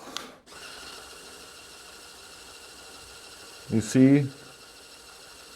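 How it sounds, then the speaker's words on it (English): A servo motor on a Mould King 19015 FH16 pneumatic tractor model switches pneumatic valves with one short, buzzing mechanical whir near the end of a quiet stretch, after a brief spoken remark. "here I can switch with the servo motor the pneumatic switches"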